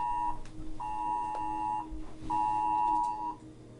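Phone sounding a flash flood warning alert, three sustained electronic beeps in a row with short gaps, loud and close over a low background hum.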